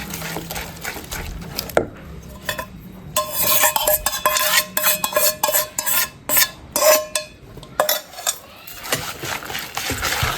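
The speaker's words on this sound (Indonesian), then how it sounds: "Kita tambahkan mentega cair sambil diaduk-aduk ya teman-teman" Melted butter is stirred into a thick potato cake batter in a bowl, with rhythmic wet slapping and clinking utensil strokes against the bowl, close and fairly loud, in repeated bursts after a quieter start.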